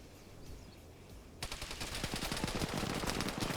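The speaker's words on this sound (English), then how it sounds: "Machine gun immediately opens up." Machine gun fire in a military video game PvP match. A quiet stretch is followed by a sudden, rapid, sustained burst of shots that carries on to the end at moderate loudness.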